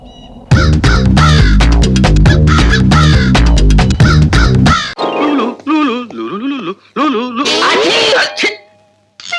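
Several crows caw loudly and close in a Telugu comedy film scene, with harsh repeated calls following a stretch of music.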